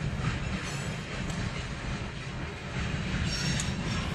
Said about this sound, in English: see the freight train.